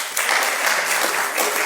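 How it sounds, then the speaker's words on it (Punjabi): An audience at a mushaira poetry gathering in Pindi Bhattian claps in sustained, dense applause, loud and even from start to finish with no speech over it. "ਉਹਨਾਂ ਵਾਸਤੇ ਵੀ ਤਾੜੀਆਂ ਦੇਣ"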